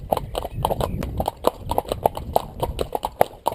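A ridden horse's hooves clip-clop in a steady, brisk rhythm during company training alongside a second horse, the beats fairly close and moderately loud against light background noise.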